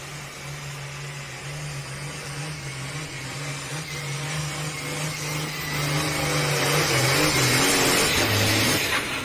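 Heavy 10,000-pound hot farm tractor at a championship tractor pull, engine roaring loud and steady with throttle worked on and off down the track, pitch wavering and swelling toward the end.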